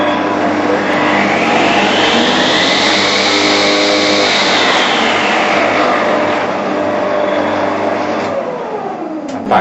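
A Shopsmith woodworking machine spins up to 5,200 RPM, its loud, close motor whine rising steadily in pitch, holding at a high steady tone, then beginning to wind down at the end.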